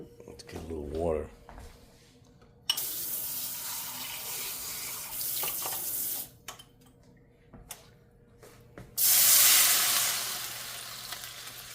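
Water pours from a kitchen faucet into a sink while breakfast is made, a steady broadband rush that starts abruptly and ends, returning louder and splashier near the end, with a voice briefly heard before it begins.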